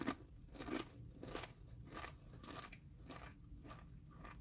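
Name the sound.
loud chewing of homemade salsa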